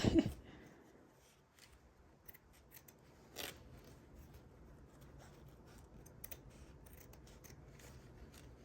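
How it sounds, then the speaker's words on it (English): Scissors snip away loose embroidery stitches on a knit beanie, with a few quiet, sparse cuts and faint handling rustle in a quiet room. "I'll get the rest of those with a better pair of scissors."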